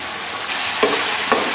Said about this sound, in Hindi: अब इसने घी छोड़ दिया है, बस हम इसको हल्का सा और भूनेंगे